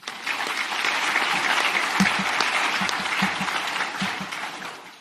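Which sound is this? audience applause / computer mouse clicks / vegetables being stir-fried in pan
audience applause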